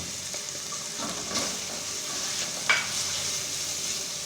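Chicken pieces sizzle in a pan with softened onion while being stirred, a steady close frying hiss with soft scraping and a brief clink, no voices.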